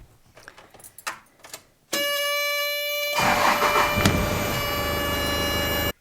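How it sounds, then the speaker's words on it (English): A Toyota Coaster bus tries to start with its doors not properly closed: a few clicks and clunks, then a loud continuous tonal warning buzz that thickens with engine noise and runs steadily until it cuts off abruptly. "that's what happens if you try to start the bus when you haven't properly closed all the doors"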